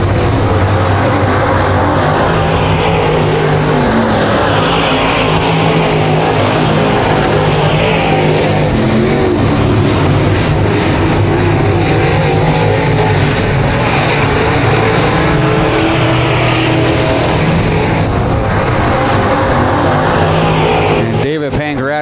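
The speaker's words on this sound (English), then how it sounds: "Doug Ricotta slowly starting to reel in the 4 car of Jake Wilbur." Dirt track late model race cars roar around the Genesee track during heat races, a loud continuous engine drone rising and falling as cars pass, with a commentator talking throughout.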